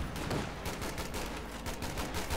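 Flak panzer gunfire in Company of Heroes 2, a rapid burst of repeated automatic cannon shots hammering in quick succession, loud and dense with no talk over it.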